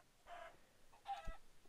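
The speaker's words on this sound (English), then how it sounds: "Are you spawning chickens?" Minecraft chickens give two short, faint clucks, one after the other, in a quiet stretch of gameplay with no talking.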